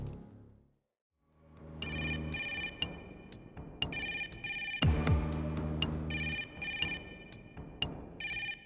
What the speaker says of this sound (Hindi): पता नहीं कोई फोन ही नहीं उठा रहा है, बेल जा रही है बस।